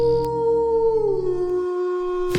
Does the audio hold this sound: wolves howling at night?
yes